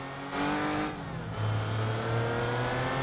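A car with a basic 2.5-liter V6 engine revs and pulls while driving in BeamNG.drive, a steady droning engine note that rises in pitch through shifts, close and fairly loud with no talking.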